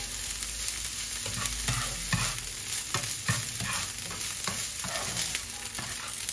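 Food fries in a little olive oil in a hot clay pot, a steady close sizzle broken by repeated scraping stirs of a utensil.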